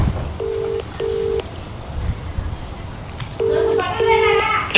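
A phone call goes unanswered: the ringback tone repeats in paired bursts, a short gap between pulses and a longer pause between pairs, heard close and clear over faint background noise.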